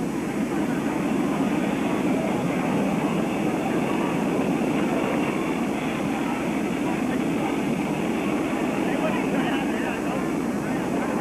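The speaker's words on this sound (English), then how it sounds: "Next big jet approaching." A big jet carrying the President and Mrs. Kennedy approaches an airport in Mobile, giving a broad, steady roar that stays loud and even throughout with no clear talk over it.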